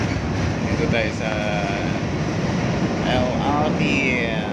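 An LRT light rail train rumbles past steadily at a Balintawak market area, a continuous heavy roar with squealing wheel tones, while people talk nearby.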